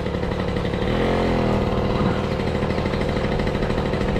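A restored 1972 Luna TFR two-stroke 50cc moped engine runs steadily and close, with a continuous buzzing drone and a slight rise in pitch around the middle, alone without voices.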